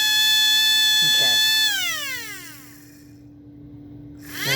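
An Apex F-901 fire and burglar alarm's motor-driven siren holds a loud steady wail, then winds down with a falling pitch as the motor slows, leaving near silence before a fresh burst of noise at the end.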